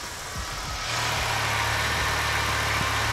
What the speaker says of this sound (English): the car is running perfect right now, and we go for a little drive and see how it is